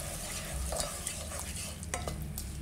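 Curd is stirred into a chicken and vegetable biryani mixture in a pot, producing soft, close wet scraping and squelching with a faint sizzle underneath.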